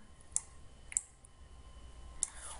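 Computer mouse clicks in a game editor, a few sharp isolated taps spaced apart over a quiet background hum, close and clear with no voices.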